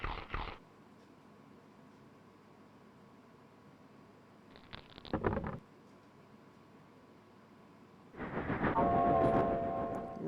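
In a Monopoly video game, a train sound plays on landing on a railroad: short chugging bursts at the start and midway, then a louder, longer rumble with a whistle-like tone at the end.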